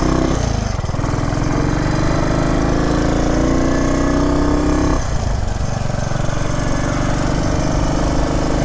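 A 1967 Harley-Davidson Sprint motorcycle engine running steadily, a loud close buzzing single-cylinder drone with a brief blip in pitch near the start and another shift partway through.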